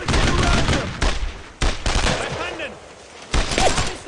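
Rapid, loud bursts of automatic gunfire in a classic retro tactical shooter video game, with several sustained volleys broken by short pauses and shouted voices underneath.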